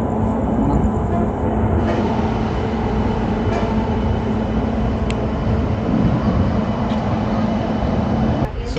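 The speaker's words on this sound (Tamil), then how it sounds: "எஸ், இந்த ட்ரெயின் வந்து மெயின் லைன் வழியாக போகும்." Mahal Superfast Express running on the main line near Tiruchirappalli, a steady loud rumble and rattle of the moving carriage with faint clicks, heard from inside the train.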